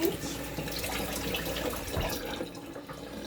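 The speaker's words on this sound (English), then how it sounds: "after I give my hands a little rinse" Hands rinsed under a running kitchen tap: a steady, rushing spray of water with a dense hiss, continuous and fairly close throughout.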